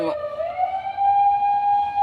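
A wailing siren rises and holds a high tone, loud and close, with a bit of background noise underneath.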